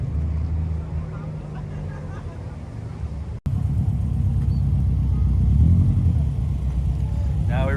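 Cars roll into a Kyusha Club Japanese classic car show, with a continuous low engine and tire rumble that swells slightly as vehicles approach; faint voices sit in the background.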